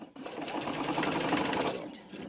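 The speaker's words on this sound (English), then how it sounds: "I'm sewing close to this edge." A domestic sewing machine stitches steadily along a fabric edge while hemming, a close, continuous mechanical whir with a fast rhythmic needle chatter that runs for about two seconds before easing off.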